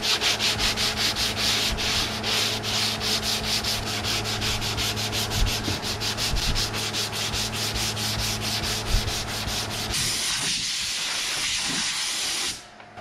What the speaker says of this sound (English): We're just gonna go over this with our 120.